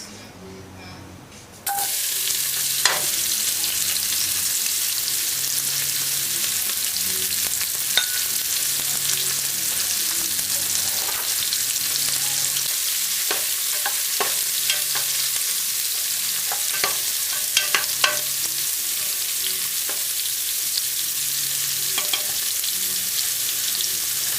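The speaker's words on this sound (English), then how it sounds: "About 1 minute after, add all the chopped ingredients." Chopped pepper steak ingredients hit a smoking hot pan and fry with a loud, constant hiss and crackle that runs evenly throughout, broken only by light stirring taps and no voices.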